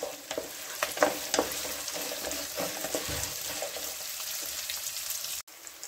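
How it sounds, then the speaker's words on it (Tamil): Chopped onions sautéing in a pan while a murrel fish gravy is cooked, a steady close sizzle and crackle with occasional stirring scrapes and a brief drop-out near the end. "அது வரைக்கும் இதை நல்லா வதக்குங்க."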